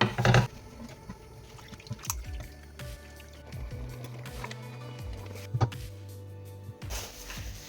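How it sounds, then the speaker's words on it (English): Cherry pie filling cooking down on the stove under constant stirring, with soft wet bubbling, drips and occasional spoon scrapes and clinks against the pot, close and steady throughout. "I'm just going to cook this down to make the cherry filling."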